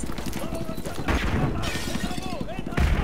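A flashbang grenade bursts in Call of Duty: Modern Warfare 2 Remastered, with sharp blasts amid clattering game noise while someone talks throughout.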